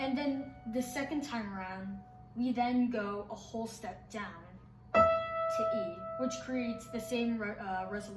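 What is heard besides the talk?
None of the usual background noises is heard.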